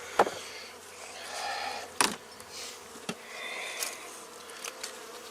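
Bees buzz around an opened winter beehive with a little honey left, a faint continuous hum near and far, broken by a few sharp clicks and knocks from handling the frames.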